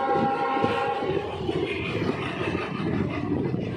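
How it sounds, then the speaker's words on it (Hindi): A Delhi–Fazilka Intercity Express pulls into Taraori railway station, a steady loud rumble of wheels and carriages with a sustained horn-like tone running throughout. "train is arriving at Taraori railway station"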